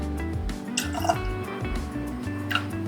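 Mirin is poured into a pot while making kaeshi tare, a Japanese ramen soy sauce base, giving a soft, uneven stream of splashing and dripping liquid with a few faint clinks.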